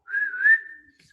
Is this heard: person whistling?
yes